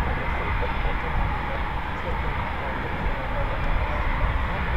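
RAF Typhoon fighter jet of 29 Squadron taking off at maximum performance, a broad, steady roaring wall of engine noise that stays loud and unbroken throughout, with no distinct voices.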